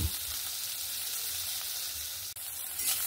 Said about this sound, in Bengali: দিয়ে এটাকে ভালো করে একটু ভেজে নেব।